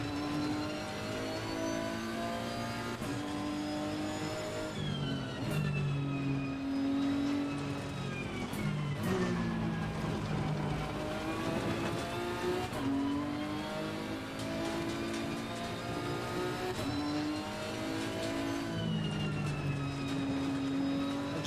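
A big GT race car engine from Assetto Corsa Competizione drones steadily and loudly throughout, its pitch repeatedly climbing through the gears and dipping under braking, with no talking.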